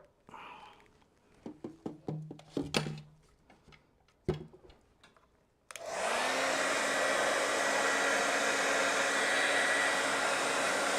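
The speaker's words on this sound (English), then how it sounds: "Doing a little hairdryer action." A handheld hair dryer switches on and blows steadily at close range, a loud continuous whoosh that follows several clicks and taps from handling a plastic TMNT action figure.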